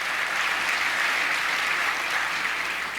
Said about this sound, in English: let's get a round of applause on that one